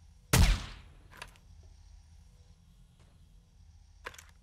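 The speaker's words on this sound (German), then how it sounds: "Und nur ein richtiger Schuss." A single sharp gunshot in the video game 7 Days To Die with a decaying tail, followed by a couple of faint clicks and a softer crack near the end, over a low background hum.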